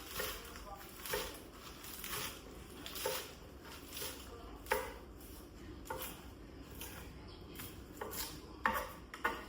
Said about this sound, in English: I'm just gonna run my knife through it, give it a rough chop